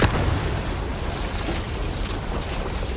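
A barrel shot in a video game blows up in a loud, dense explosion right at the start, followed by a sustained roaring rumble that fills the rest of the moment with no speech.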